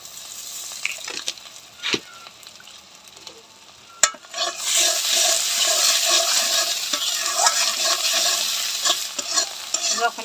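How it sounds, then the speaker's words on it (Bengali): Spice paste for katla fish dopeyaza fries in a pan while being stirred, with a few sharp utensil knocks at first, then a steady bright sizzle laced with repeated scraping strokes. "মশলাটা ভালো করে কষাই নেব"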